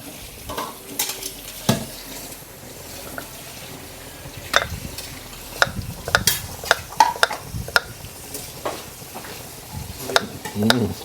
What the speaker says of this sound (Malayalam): നമ്മൾ ആദ്യം ചതച്ച മസാല നൈസിൽ ഒഴിച്ചു കൊടുക്കുക ചെറിയ സിമ്മിൽ കേട്ടോ